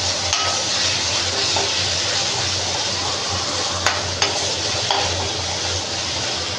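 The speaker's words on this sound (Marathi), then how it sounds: "आलं लसूणची पेस्ट, चांगलं आलं लसूणसुद्धा परतून घ्यायचं." Ginger garlic paste sautéing in a pan makes a steady, dense sizzling hiss that runs throughout, with a few faint clicks of a utensil.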